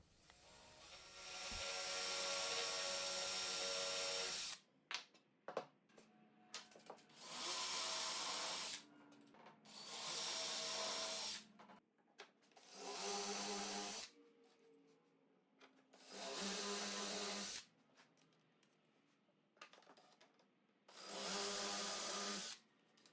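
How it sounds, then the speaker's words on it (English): A power drill with a brad point bit bores dowel holes in white oak, running in six separate loud bursts of a few seconds each, with short quiet pauses between them. "stick the tip of a brad point drill bit in to make the holes"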